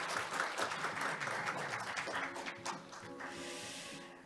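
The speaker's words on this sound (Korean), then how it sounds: "지금까지 고견 들려주신 이근 서울대학교 석좌 교수님 다시 한번 큰 박수 부탁드리겠습니다." A conference audience applauds a keynote speaker, a distinguished professor at Seoul National University, at an international conference. Dense, even clapping from many hands, fairly distant and faint, gradually thinning toward the end.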